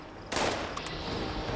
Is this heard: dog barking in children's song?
no